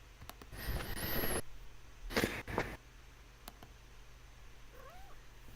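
Pet cat Lila gives a few short, close meows and soft purring sounds in a quiet room, with brief louder bursts early on and near the middle, then a faint trailing call at the end.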